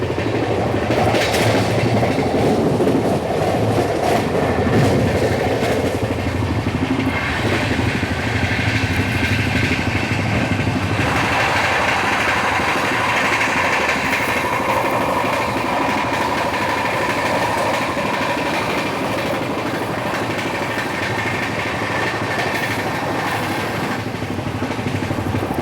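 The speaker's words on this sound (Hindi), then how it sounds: "अभी हमारी ट्रेन ओवरटेक करने जा रही है Dahanu road Vadodara superfast express को" Mumbai Ahmedabad Double Decker Express 12931 running at speed and overtaking the Dahanu Road Vadodara Superfast Express, with a steady loud rumble and clickety-clack of wheels on rails throughout, the tone shifting midway as the other train passes alongside.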